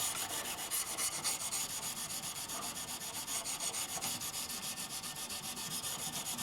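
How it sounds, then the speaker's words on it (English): Someone hand-sands and scuffs the old finish on the headstock of a 1958 Martin acoustic guitar. The rasping back-and-forth strokes are steady and rhythmic, faint and close, with no talking. "I'm going to take it real easy and sand and scuff"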